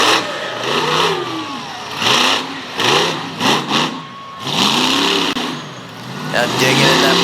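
Monster truck built on a chassis first run in 1996 as Black Stallion, engine revving hard as it digs through mud at a Fredericksburg, Virginia show, with repeated rising and falling throttle surges under loud commentary.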